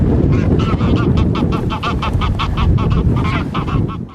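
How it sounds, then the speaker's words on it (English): A couple of wild geese honking repeatedly as they fly overhead at a Yorkshire wild camp, a loud, steady chatter of overlapping calls against a rushing windy background. "We then have a flyover of a couple of getaway geese"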